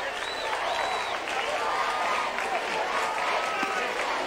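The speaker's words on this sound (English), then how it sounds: "And the crowd from California loving it." A crowd at a Little League World Series final cheers and applauds after a home run, a dense, sustained roar with whistles rising over it, while a commentator talks through it.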